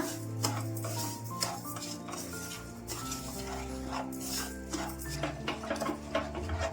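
Caramelizing sugar is stirred steadily in a pan for a plum cake, with a spoon repeatedly scraping and clinking against the metal under a soft background sizzle, close and continuous with no talking.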